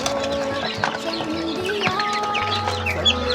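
Chickens cluck and chatter while feeding, several birds close by with overlapping short calls and occasional louder squawks, a busy continuous flock sound with no voices.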